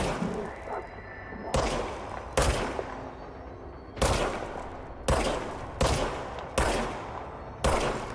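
Gunfire in the action game Control, fired in separate sharp bursts, about seven loud cracks spaced a second or so apart, each ringing off briefly.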